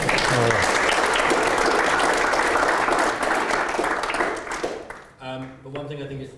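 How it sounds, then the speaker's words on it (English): Audience applause fills the space, steady and dense, then tapers off as a voice begins speaking. "can we give Giovanni a applause?"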